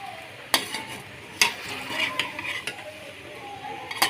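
Chicken black pepper macaroni stirred in a pan, a utensil scraping and clinking against the metal with a few sharp knocks over a low sizzle, close and steady with no talking.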